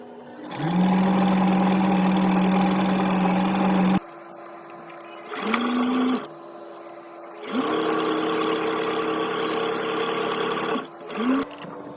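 A sewing machine with a walking foot stitches a receiving blanket straight through the fabric, its motor whirring loudly in several long runs with short pauses between.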